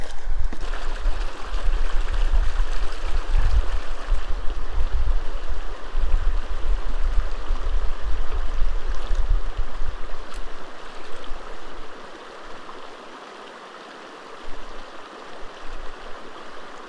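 Gold pan swirled and sloshed in a stream, with steady rushing, gurgling creek water close by that eases and grows quieter toward the end.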